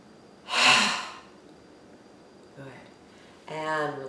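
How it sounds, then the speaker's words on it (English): Deep Ujjayi breathing during a guided yoga session: a strong breathy exhale near the mic, a pause, then a faint breath and another audible breath toward the end. "One more deep Ujjayi breath."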